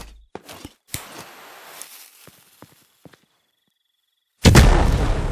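A giant bomb in a Firework Mania game mod goes off as a sudden loud, roaring blast near the end, after a few scattered small pops and thuds.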